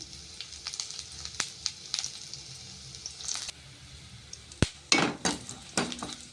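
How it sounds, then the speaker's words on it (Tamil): Sliced onions for tempering dropped into hot oil with popped mustard seeds, a soft sizzle with scattered crackles and spoon scrapes, then a sudden clatter and louder bursts of frying. "தாளிக்கிறதுக்கு 2 வெங்காயம் போட்டுக்கோங்க"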